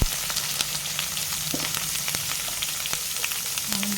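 Onions sizzle steadily in hot oil with ginger paste and turmeric stirred in, a continuous close frying hiss broken by small crackles and occasional clinks of a utensil.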